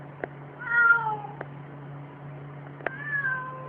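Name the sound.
cat meowing in online video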